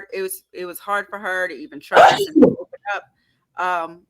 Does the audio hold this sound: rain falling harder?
no